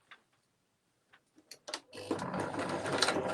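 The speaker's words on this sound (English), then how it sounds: "Backwards and forwards with stitches. So a straight line right to the end." A sewing machine stitches a straight seam on a screen-printed gift bag, opening with a few isolated needle clicks and then running steadily and close, with no talking.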